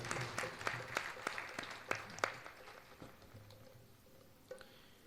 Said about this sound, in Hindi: ताली बजा करके एक बार फिर।